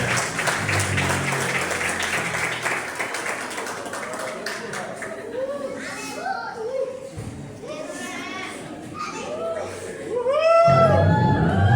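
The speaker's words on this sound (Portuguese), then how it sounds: "Vamos aplaudir o Senhor." Applause and clapping from a crowd at a church service fill the room, mixed with lively chatter and children's voices, growing louder toward the end.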